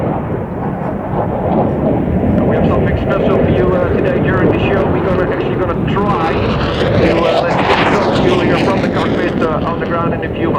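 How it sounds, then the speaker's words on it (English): An F-16 fighter jet flies a maximum rate turn pulling 9 G at a Dutch airshow demonstration, a loud sustained roar of jet engine noise throughout with a sweeping tonal whine rising and falling near the middle as it banks past. "a maximum rate of turn of the F-16, pulling 9 Gs, that's 9 times the force of gravity"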